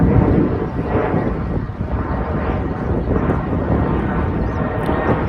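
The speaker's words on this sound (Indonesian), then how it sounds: "Main lagi pesawat malah muter kesini." Airplane flying overhead somewhere in Japan, a steady broadband roar that holds at one level throughout, mixed with some wind noise on the microphone.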